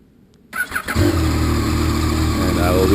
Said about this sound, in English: So letting the bike warm up right now before I go ride it.